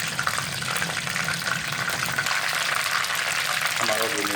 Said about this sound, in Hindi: हमारा रिमेनिंग चिकन जो बाकी बचा हुआ चिकन था वो भी अच्छे से फ्राई हो चुका है